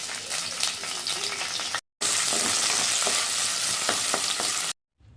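Onion frying in sesame oil with fennel seeds while being stirred, a steady loud sizzle with scraping strokes of the spoon, broken by two brief pauses.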